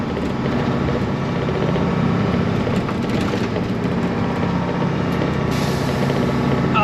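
A 1993 Peterbilt cabover truck drives under its own power, its diesel engine rumbling loud and steady from inside the cab with road noise and a hiss of air near the end.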